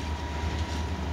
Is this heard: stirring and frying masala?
no